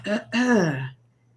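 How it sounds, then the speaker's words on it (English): Someone clears their throat, two short rough bursts close to the ear, the second longer and more drawn out, then quiet. "I struggle to not be offended, and then clear my throat."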